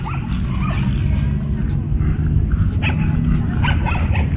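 American Bully dogs bark at an SM pet park, a mix of yips and barks under a steady crowd murmur, with people talking throughout.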